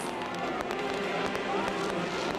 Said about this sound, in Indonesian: kita lihat memang semakin semarak dengan letupan kembang api yang dilancarkan dari beberapa posisi